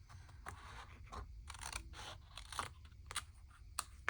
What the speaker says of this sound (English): I'm going to trim this excess off, and just go carefully.